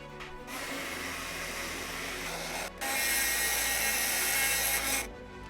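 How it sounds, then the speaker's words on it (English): A heat gun blasts air to melt embossing powder on a card, a loud, steady whirring roar that stops briefly in the middle, starts again, and cuts off near the end. "going to heat it up from behind so I don't have any flying embossing powder"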